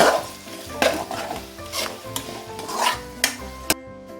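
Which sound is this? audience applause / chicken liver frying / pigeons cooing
chicken liver frying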